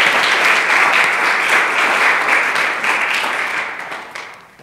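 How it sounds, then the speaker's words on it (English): Audience applause for two young graduates at a 2016 LWC graduation ceremony, a loud, dense wash of clapping that holds steady and then tapers off toward the end. "I believe that deserves a round of applause"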